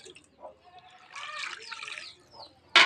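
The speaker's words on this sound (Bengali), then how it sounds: "এই যে আমি গরম জল দিয়ে দিচ্ছি এক বাটি মতন। এটাকে ভালো করে আমি একটু ধুয়ে নেব।" Hot water is poured from a bowl over poultry meat to wash it, giving a brief splashing rush in the middle and a louder splash at the end, close by, with a voice speaking around it.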